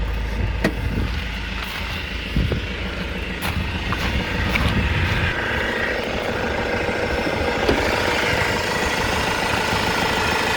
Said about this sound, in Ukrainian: завівся двигун, чисто працює.